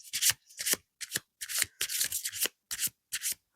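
Tarot cards are shuffled close by in a series of quick, crisp riffling bursts, about nine separate rustling passes separated by brief pauses, with no talking.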